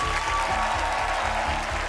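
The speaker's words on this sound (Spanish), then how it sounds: "Aplauso para Carolina" Steady applause from a Got Talent Chile 2024 quarter-final audience, a dense wash of clapping at even loudness throughout, with a faint musical tone underneath.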